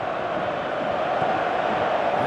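A stadium crowd in the football video game Winning Eleven 2018 roars continuously, a dense steady wash of massed voices with no distinct breaks.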